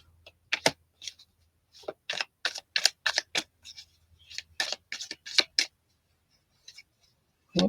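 Playing cards are shuffled in a quiet room during an energy reading, producing a run of short, crisp riffling snaps in irregular bursts with brief pauses between them, close and fairly soft, with no talking.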